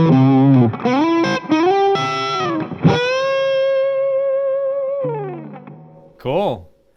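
Heavily distorted electric guitar chords through a Fuchs amp plugin with gain boost engaged ring out loud and saturated, sustaining before a short bent note near the end.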